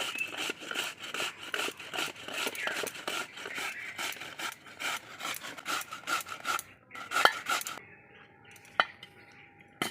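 A raw potato is rubbed across a hand grater for aloo pakora: quick, rhythmic rasping strokes that repeat steadily, then stop, followed by a few light clinks and faint handling sounds.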